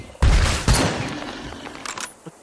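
Rifle shots in the video game Dysmantle, two loud close blasts in quick succession, each with a long rolling decay and rumbling tail, no talking.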